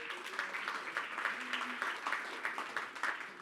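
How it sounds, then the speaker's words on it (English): Audience applause at the close of a business biodiversity talk: a modest, fairly faint patter of clapping from a smallish crowd, with scattered sharper claps rising and falling over a few seconds. "And please, a special applause again for Julia."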